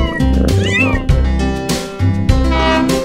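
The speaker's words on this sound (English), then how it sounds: "kittens." Loud, close meowing of kittens, several drawn-out meows in a row set against a bouncy children's song.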